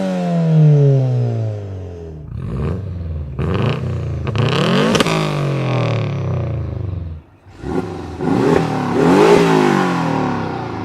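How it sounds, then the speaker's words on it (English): A car with a modified aftermarket exhaust revs hard several times, each loud sweeping rise and fall of engine and exhaust roar separated by brief lulls, close and with no talking. "we've got some examples of some really cool exhaust sounds"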